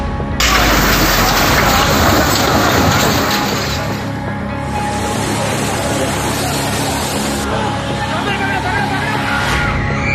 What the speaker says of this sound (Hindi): वो बारिश कितनी भयंकर होगी जिसमें सड़कों पर खड़ी कारें बहने लगी।